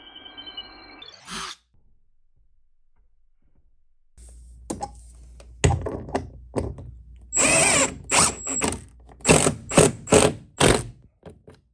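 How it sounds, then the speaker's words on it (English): A power drill whirs in short bursts, then bores loudly into wood with a Forstner bit in a series of grinding pulses separated by brief pauses. "drill this with my Forstner bit"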